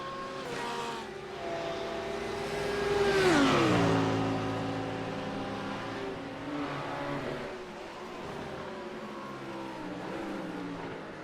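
GT3 race cars, including a Porsche, at Suzuka, with high-revving engines swelling as a car sweeps past with a falling pitch, then further engines droning and shifting gears at steady distance.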